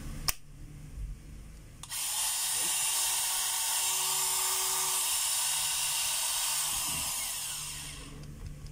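A DeWalt DCG412 cordless angle grinder, just fitted with a new brush holder, spins up about two seconds in and runs with a loud, steady high whine and airy hiss before winding down near the end.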